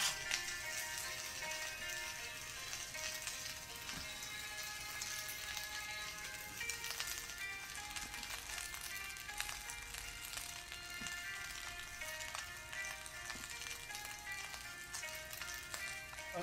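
Thai egg fried rice frying in a pan, a steady close crackling sizzle with dense popping that continues unbroken without talk.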